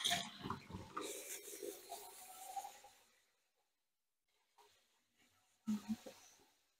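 Rice being rinsed by hand in a bowl of water: wet swishing and sloshing, then near silence, followed by a few brief splashes close by.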